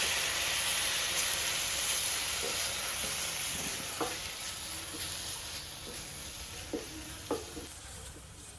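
Pav bhaji frying on a tawa gives a steady sizzle while a spatula stirs and scrapes through it, with sharp, irregular clicks and scrapes that get more frequent toward the end.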